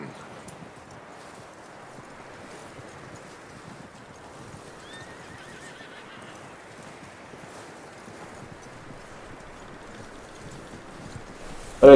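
In the video game Red Dead Redemption 2, steady horse hooves clip-clop over a constant rushing background, with an occasional faint whinny-like tone; no talking.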